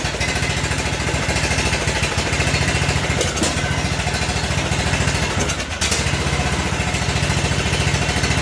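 A John Deere D110 lawn tractor with a Briggs and Stratton engine, recently repaired after a no-compression fault, runs loud and steady close by with an even rattling drone throughout.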